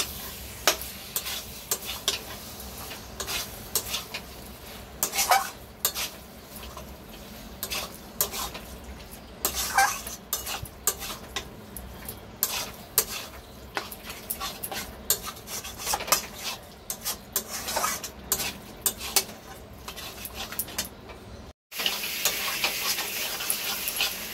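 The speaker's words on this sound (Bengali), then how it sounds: "মাংসটা এবার আমি ভালো করে কষে নেব।" Mutton being stir-fried with spices in a pan for mutton kosha, dense repeated scraping and rubbing strokes of a spatula over a low sizzle, close and steady for a long stretch with no voices.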